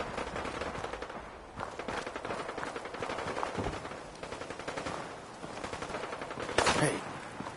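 Rapid gunfire in the video game Fallout 4, bursts of automatic shots rattling in quick succession with short pauses, fairly loud and continuous across the stretch.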